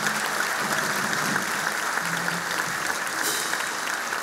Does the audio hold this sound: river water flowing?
no